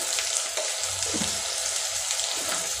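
Chili powder frying in hot oil, a steady hiss and sizzle with light bubbling crackle throughout, close and even in level, no voices.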